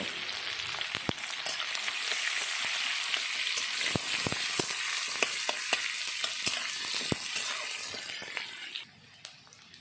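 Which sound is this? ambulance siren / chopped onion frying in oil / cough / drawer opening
chopped onion frying in oil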